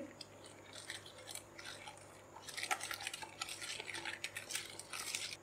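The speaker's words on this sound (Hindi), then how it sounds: "ब्लैक पेपर कास्टर शुगर डालेंगे और इसे मिक्स करेंगे" Spoon stirring black pepper and caster sugar into a Russian salad mixture in a bowl, soft irregular clinks and scrapes close by, quiet, without talk.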